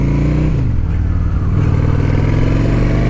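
A 2008 Honda Shadow 750 with its stock exhaust rides along at speed, a steady low engine drone mixed with loud wind rush, with slight shifts in pitch as the revs change.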